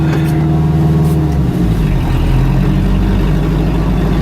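Mercedes G-wagen restomod engine pulling away on icy ground in two-wheel drive, a loud steady low rumble close by with a brief throttle shift midway, continuous and without talk.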